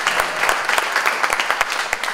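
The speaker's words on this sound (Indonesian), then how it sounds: "tepuk tangan untuk kita semua" Audience at an Indonesian youth forum with the sports minister and creative youth communities applauds the speakers, a dense, steady wash of many hands clapping with sharp individual claps standing out, fairly loud and with no talking over it.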